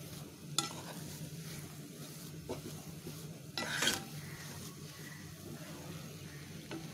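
Semolina being stirred nonstop in a pot, a quiet low rasping scrape under faint cooking hiss, punctuated by a few sharp utensil knocks and one brief louder scrape-clatter midway.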